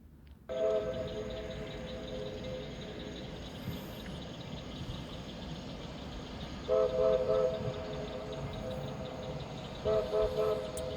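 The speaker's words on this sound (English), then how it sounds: "we can hear the Magic Kingdom Railroad from the apartment each night as they put the trains up" The Magic Kingdom Railroad trains are being put away at night, heard from a nearby apartment: a faint steady rumble with short whistle toots at the start, middle and end.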